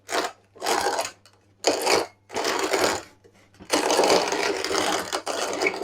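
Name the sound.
coffee grinder slowly grinding beans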